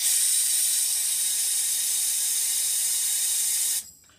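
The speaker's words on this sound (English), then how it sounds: "I normally try and set it up whereby I've actually got the airline blasting through" A compressed air line blasts through at about 10 to 15 psi during cleaning before powder coating, giving a loud, continuous close hiss that cuts off abruptly near the end.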